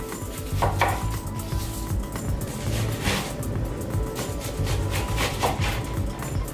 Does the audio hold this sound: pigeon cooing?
no